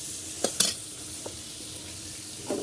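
Onions frying in a pan give a soft, continuous sizzle, broken by a few sharp scrapes and clinks of a utensil stirring, close and fairly quiet with no talk.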